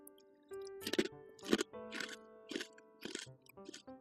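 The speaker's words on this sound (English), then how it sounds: "They're also really crunchy." Sour cream and onion flavored chips from a Tokyo Treat snack box crunch in a series of close, loud bites, with rhythmic chewing between each crisp snap.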